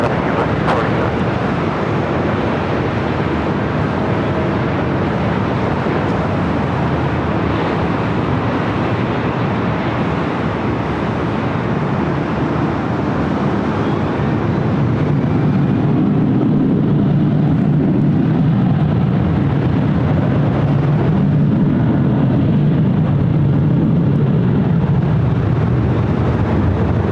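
Boeing 787-8 Dreamliner on its takeoff roll from LAX runway 24 left, a loud continuous jet roar with wind buffeting the microphone, the engine rumble deepening and growing heavier toward the end.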